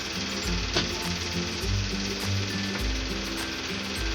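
Cooking oil sizzles and crackles steadily in a frying pan, a loud close continuous hiss with soft stirring taps and a low background hum, no talking.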